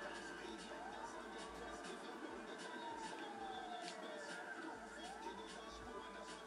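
Police car sirens in GTA 5 Online sweep up and down in repeated wails, steady and fairly prominent, with background noise and faint voices underneath.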